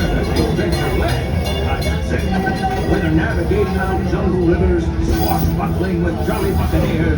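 Walt Disney World Railroad train pulling into a station in Adventureland, a steady rumble of rolling wheels and carriages heard close throughout under a narrator's amplified voice.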